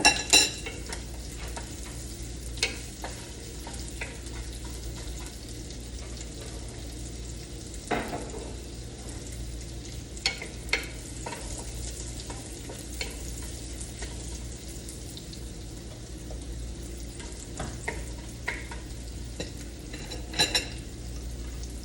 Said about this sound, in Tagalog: magigisa ko ng sibuyas panghalo dito sa aking corned beef